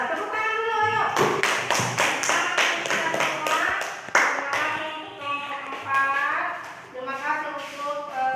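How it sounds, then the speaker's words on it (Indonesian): A class claps in a quick rhythmic pattern after group presentations while voices talk and chant over and after the clapping. "Ya, tepuk tangan dulu, ayo."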